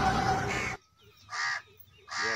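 A crow gives two short, harsh caws close by, each about a third of a second long and separated by a brief pause, following a burst of louder outdoor noise.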